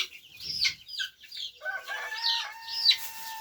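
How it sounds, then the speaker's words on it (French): A pair of Gauloise chickens, a rooster and a hen, clucking and squawking in short rising calls with a brief flutter of wings, close and fairly clear against a quiet background. "Donc, on a 2 petites gauloises. Donc, un coq et une poule"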